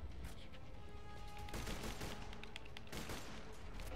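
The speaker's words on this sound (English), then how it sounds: "Now let's hear a sniper" Borderlands 2 sniper rifle fire in a video game: sharp shots crack out amid dense, continuous gunfire and battle noise, all fairly faint.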